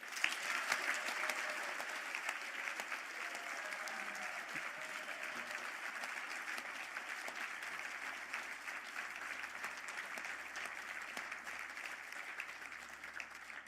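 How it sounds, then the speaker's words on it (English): Round of applause for graduates at a Galway City conferring ceremony, steady hall clapping from a seated crowd, moderately distant and even throughout, with no talk over it. "I ask the graduates of the Bachelor of Science in Business Information Systems to stand for"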